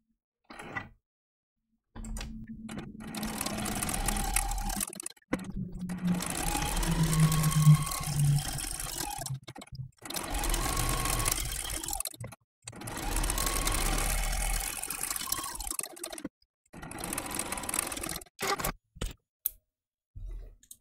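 Home sewing machine running a straight stitch around a raw edge appliqué on a mini quilt, several steady motor-driven runs of a few seconds each with short pauses between them, close and clear, no talking.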